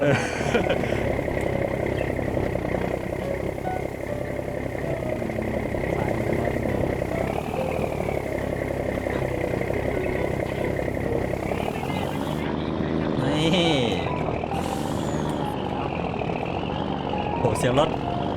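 A loud truck engine roars steadily in the video game Farming Simulator 19, its pitch rising and falling as the vehicle revs, with a voice talking over it.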